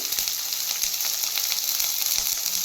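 Spice paste of cashew, poppy seed and melon seed frying in oil in a pan for fish rezala, a steady close sizzle with faint stirring ticks, no voices.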